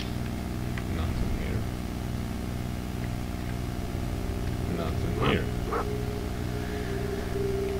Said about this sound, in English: Dog is angry.